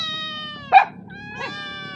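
Hungry cats meow twice, close and loud, a drawn-out cry followed by a shorter, softer one over a steady background hum.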